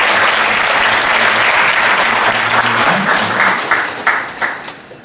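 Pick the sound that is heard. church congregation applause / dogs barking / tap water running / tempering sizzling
church congregation applause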